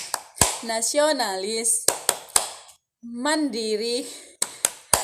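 Hand clapping in a rhythmic Tepuk PPK chant, sharp claps punctuating a woman's chanted words, several quick claps in bursts between phrases.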